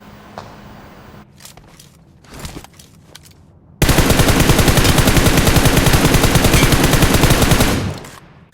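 In the mobile game BGMI (PUBG Mobile), a few scattered thuds and shots give way to a long, loud burst of rapid automatic gunfire that lasts about four seconds before cutting off.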